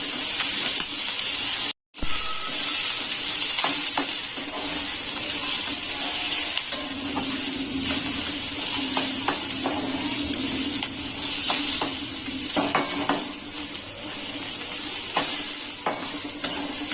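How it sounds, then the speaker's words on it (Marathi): Onion fries in a wok, browning for Puneri misal, giving a loud, steady hiss and crackle with intermittent scraping stirs, broken by one brief silent cut near the start, and no one speaking. "आपल्याला हा कांदा असा ब्राऊन कलरवर करून घ्यायचा आहे."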